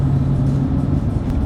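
Deep, steady rumble of a 2020 BMW M4 Competition twin-turbo inline-six, loud and close, with a low droning tone holding briefly before easing slightly.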